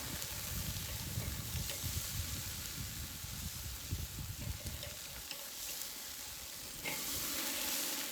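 Flank steak sears for Korean BBQ with a steady, close sizzle and hiss that carries throughout, briefly shifting in tone midway before the loud frying resumes, with no talking.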